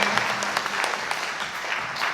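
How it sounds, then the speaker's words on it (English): Audience applause at a jazz band spring concert, a steady dense clatter of many hands clapping from a crowd, fairly loud and continuous for a couple of seconds. "Belated round of applause for Elias."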